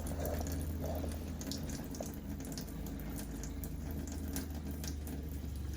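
A trailer water pump running as it draws antifreeze through the plumbing lines of a horse trailer, a steady loud motor hum with a continuous rushing, gurgling flow of liquid close by.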